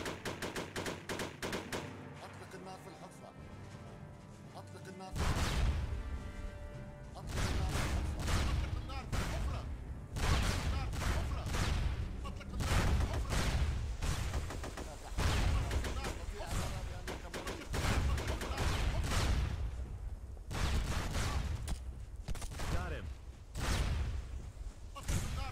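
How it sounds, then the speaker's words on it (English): Gunfire in the online shooter game SOCOM, repeated loud bursts of rapid shots over about twenty seconds with short pauses between them and players talking underneath. "Dude, I was shooting at you."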